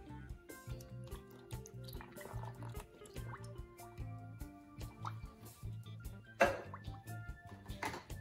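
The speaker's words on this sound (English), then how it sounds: "So now I'm going to go on in with my coconut milk." Coconut milk from a whole can pours onto chopped papaya for a Caribbean smoothie, giving soft dripping, glugging and squishing close by with a few sharper splashes, and no talk.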